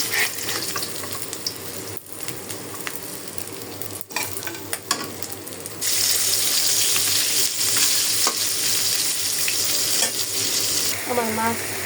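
Pieces of rohu fish fry in oil in a pan with a steady, loud sizzle that grows stronger partway through. Brief stirring and scraping sounds come through, with no talk.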